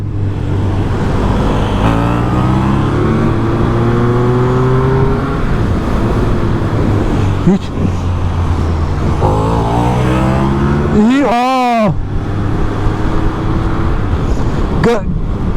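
A KTM 1290 Super Duke R or Triumph 1200 RS naked motorcycle revs hard near the microphone, engine tone climbing and falling through several sustained pulls, with a sharp high-pitched sweep near the end over steady wind roar.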